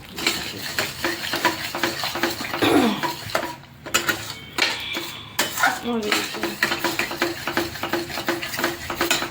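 Amaranth flour sheera with sugar being stirred in a metal pan, repeated scraping and clinking of a spoon against the pan in an uneven rhythm, close and fairly loud, with a brief cough-like sound midway.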